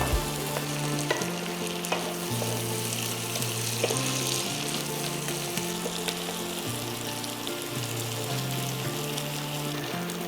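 Small chunks of smoked sausage fry with bacon in a pot, giving a dense, continuous sizzle with stirring and scraping throughout. No voice is heard.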